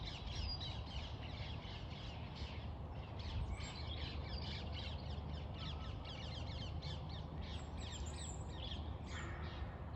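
Crows cawing repeatedly among other birds in Colne Valley Regional Park, a steady run of calls over a constant low outdoor rumble, with no talking.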